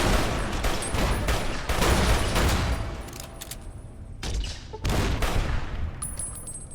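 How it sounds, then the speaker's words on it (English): Grenade launchers and rockets fire in Fallout New Vegas in a dense, loud barrage of blasts and explosions that rolls on with brief dips, no voices over it. "That thing is firing grenade launchers. That thing is firing rockets."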